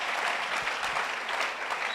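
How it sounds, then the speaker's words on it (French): A large audience at a church gathering in Mampong, Ghana claps hands together in dense, continuous applause, close and sustained throughout. "Clap your hands for yourself."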